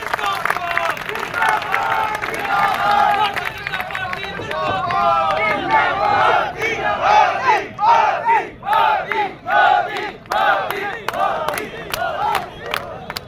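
A large outdoor rally crowd cheering, shouting and clapping as J. P. Nadda arrives on stage, sustained loud roar with rhythmic chanting bursts growing more pulsed toward the end.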